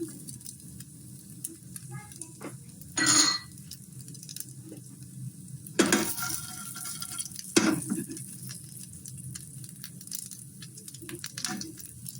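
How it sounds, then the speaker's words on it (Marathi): Grated coconut dry-roasting in a pan for katachi amti gives a low steady sizzle with soft scraping stir strokes now and then, close by and fairly quiet, with no voices. "खोबरं टाकलेलं आहे मी आता खोबऱ्याला पण आपण असं छान असं भाजून घेऊया"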